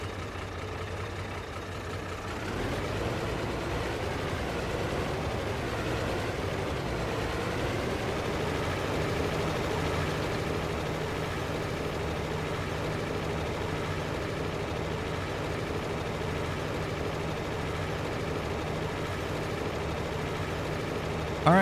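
A tractor engine in Farming Simulator runs steadily, a low droning hum that rises slightly after a couple of seconds and then holds at a constant level with no speech.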